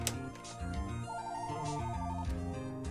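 A phone in Apollo Justice: Ace Attorney rings with a short run of repeating electronic tones over soft game background sound, and no one talks.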